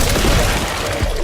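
Gunfire from enemy zombies in the Resident Evil 9 video game, heard as a rough burst of shots and booms. The shots sound mid-distance and loud, with a short lull before a final thump.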